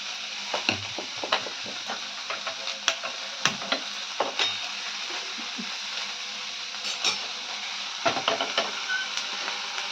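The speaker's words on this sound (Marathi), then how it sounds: "आपण हे सर्व परतून घेऊया" Ten to twelve garlic cloves, roasted peanuts, green chili and sesame seeds sauté in a hot pan, with a steady close sizzle broken by frequent light ticks and scrapes of stirring.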